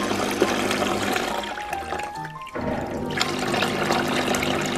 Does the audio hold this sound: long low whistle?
no